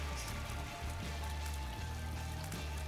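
Steady rain hiss from The Binding of Isaac: Repentance video game, a constant even wash of falling droplets at moderate level with a low game hum underneath and no talking.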